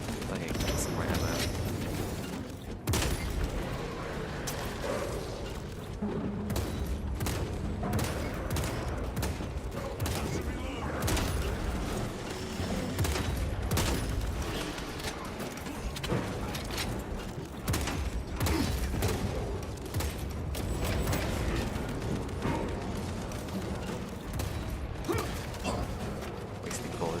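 Automatic gunfire and mechanical weapon noise in the video game Space Marine 2, loud and continuous through a dense, busy battle mix with repeated bursts of shots.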